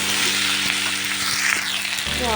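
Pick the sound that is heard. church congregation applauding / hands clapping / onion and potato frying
onion and potato frying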